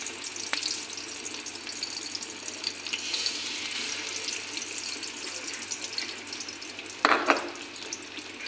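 Sliced capsicum fries in a pan over a low gas flame, a steady close sizzle and crackle running throughout, with a brief clatter of stirring near the end.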